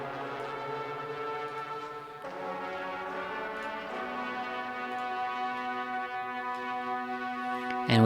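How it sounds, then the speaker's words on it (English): A brass ensemble of two French horns and a trombone plays sustained chords together, warm and full, changing notes slowly before ending with a brief louder swell. "these are French horn, another French horn, and a trombone"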